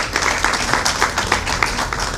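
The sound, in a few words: audience applause at conference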